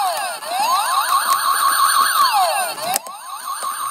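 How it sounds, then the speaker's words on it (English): A loud electronic police-style siren wails up and down rapidly, close and tinny, from a battery-powered Disney Miles from Tomorrowland toy spaceship, then cuts off briefly before restarting. "It's like a police car."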